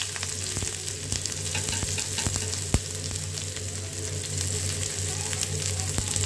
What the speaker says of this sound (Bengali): পেঁয়াজ কুচিটুকু দিয়ে দিব